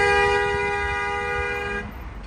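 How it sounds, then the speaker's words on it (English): A car horn blares in one long sustained honk on a Hollywood street in Los Angeles, loud and close, cutting off abruptly near the end over steady street noise. "That might have been the honk"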